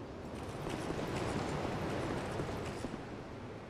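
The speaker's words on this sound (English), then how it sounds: "It's a waterfall." A waterfall in the video game Dark Souls 2 rushes in a steady, faint broadband hiss that holds evenly throughout with no speech.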